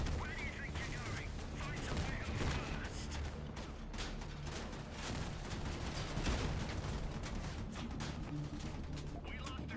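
Spiral missiles fire in a video game as a dense, continuous barrage of explosive bursts and booms, with a steady rumbling roar and faint talk layered underneath.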